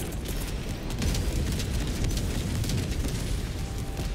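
Orbital strike explosion in a Helldivers-style shooter, a dense, continuous roar of rumbling blast and crackling debris that stays loud and close throughout, with no talking.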